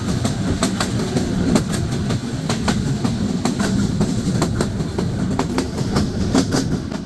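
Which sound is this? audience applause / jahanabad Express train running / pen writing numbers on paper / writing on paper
jahanabad Express train running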